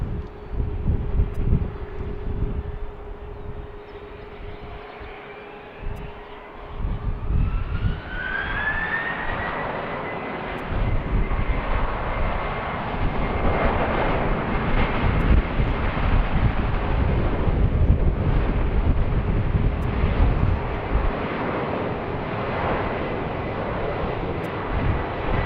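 Amazon Prime Air jet on the runway at BWI airport, its engines giving a sustained roar that swells and rises in pitch, with wind noise over the microphone.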